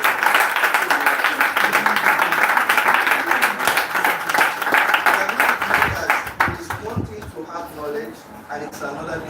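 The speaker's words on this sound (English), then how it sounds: "applaud the organizers of this event" A crowd applauds the organizers at a talk, dense sustained clapping for about six seconds before it thins out and a voice begins speaking.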